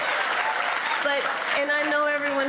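A crowd claps and cheers together in a steady, dense roar. Raised voices ride over the clapping through the second half.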